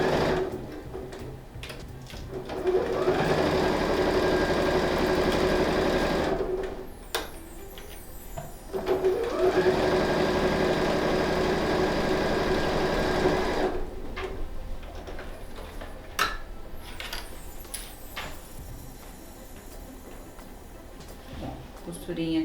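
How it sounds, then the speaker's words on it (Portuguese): A domestic sewing machine runs a safety seam close to the fabric edge on a flat zippered pouch, humming and rattling steadily in two long stitching runs, with someone speaking over parts and pausing between them. "Vou para a máquina de costura e vou passar uma costurinha de segurança"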